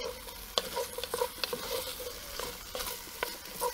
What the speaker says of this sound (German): Jetzt können wir auch schon die Zwiebeln und den Knoblauch dazugeben.